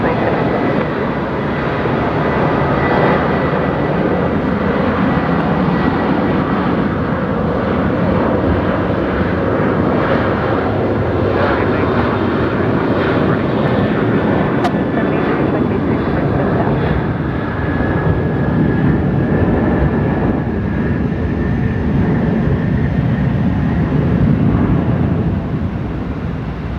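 A Qantas jet airliner, flight 943 bound for Perth, takes off at night from Brisbane Airport, its engines giving a loud, steady broadband roar that holds for the whole stretch, with faint talk now and then beneath it.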